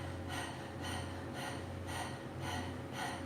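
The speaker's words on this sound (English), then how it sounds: "Notice that I'm hearing my inhale and my exhale." Breath of Fire breathing, with rhythmic, forceful nasal breaths repeating about every half second, six close, steady puffs of air over a faint hum.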